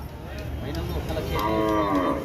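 Oxen at a weekly bull market in Devarakadra low in a drawn-out moo, close and fairly loud, over a steady crowd murmur.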